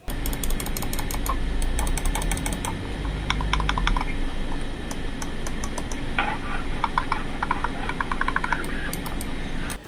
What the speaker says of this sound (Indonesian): silahkan kalian dengarkan sendiri suara kliki dari mouse Texware ini